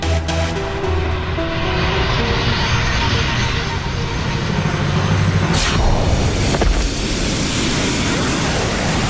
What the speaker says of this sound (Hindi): अब मैं इस विमान की गति इतनी तेज कर दूंगी